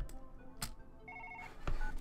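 Telephone ringing in the video game Surgeon Simulator, a short electronic ring pattern of repeated tonal pulses, moderately quiet, with no speech.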